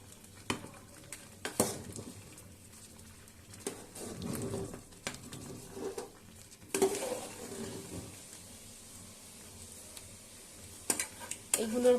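A spoon clinks and scrapes against a pot while a spiced khichdi mixture of dal, rice, cumin and red chilli powder is stirred, giving sharp intermittent knocks over a soft scraping bed with some background sound.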